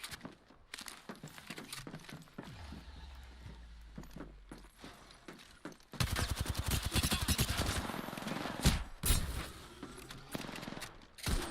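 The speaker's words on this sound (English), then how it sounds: "Listen up, I'm getting shot at." Gunfire in a first-person shooter video game with a Wraith character, rapid bursts of shots and impacts, quieter at first and then dense and loud from mid-clip onward.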